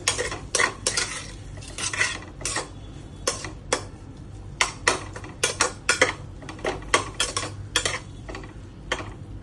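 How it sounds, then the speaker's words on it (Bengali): A spoon scrapes and clinks steadily against a pan as whole spices are stirred while they fry for a fish-head and bottle-gourd curry, a quick irregular run of close metallic taps lasting throughout with no voices. "মশলাগুলো ভাজা ভাজা হয়ে গেছে"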